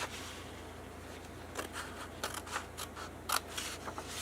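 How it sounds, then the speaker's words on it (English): Scissors snip a Stampin' Up! logo off a used paper grid for a box card, with a string of crisp, close cuts and clicks starting after a quiet moment, one sharper snap near the end, with no talk. "I'm just going to cut off the word, the little Stampin' Up! Logo"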